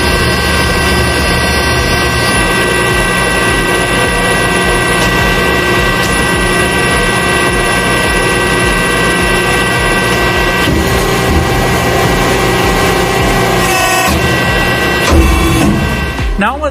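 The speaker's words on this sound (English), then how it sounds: "Back gauge is moving back." A press brake in a metal shop whirs and hums steadily as its back gauge moves back, with loud constant machinery drone and a brief mechanical clunk near the end.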